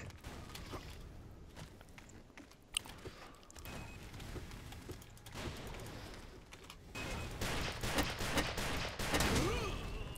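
Gunfire from the blocky shooter game Ace of Spades: scattered sharp shots and short bursts crack over a busy, noisy battle background, growing denser and louder toward the end.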